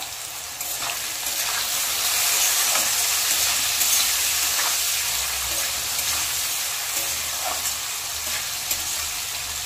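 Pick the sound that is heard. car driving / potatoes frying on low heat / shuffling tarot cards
potatoes frying on low heat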